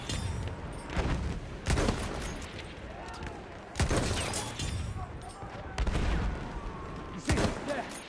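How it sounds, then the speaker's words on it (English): Enemy machine gun fire in Battlefield 1 on the Sinai Desert map comes in repeated loud bursts, about five rattling volleys spaced a second or two apart, over background battle noise. "An enemy machine gun."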